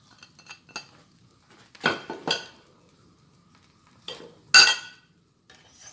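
A utensil stirs eggs and cheese in a pan, with light clinks and scrapes against the metal in short, irregular bursts, close by and fairly quiet, no one speaking.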